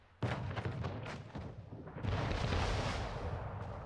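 Booming cannon tower blasts from the video game Anno 1800, a sharp burst then a sustained roaring barrage of explosions, loud and dense.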